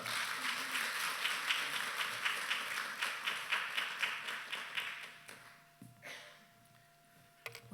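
A church congregation applauds to welcome a visiting pastor, a steady run of rhythmic hand claps at moderate distance that fades out over several seconds into quiet room sounds.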